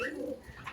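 A cockatiel pair at a nest box with eggs gives a short, close call, a single brief vocalization lasting under a second.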